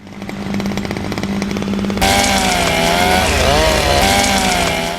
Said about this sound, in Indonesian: Kemudian, John memaksa Zui memotong mayat Stacy dengan gergaji mesin untuk menghilangkan jejak dari polisi.